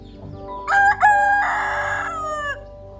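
A rooster crows once in a close, loud call that rises, holds a long strained middle note, and then trails off, with hens faintly audible around it.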